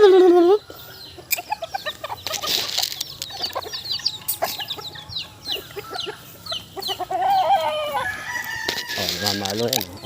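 Chickens cluck and a rooster crows nearby at feeding time, with busy overlapping calls throughout and a loud crow at the end.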